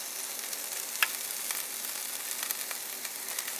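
Flatbread cooks in a hot pan, giving off a steady, even sizzle with a few soft ticks and pops, close by and with no voices.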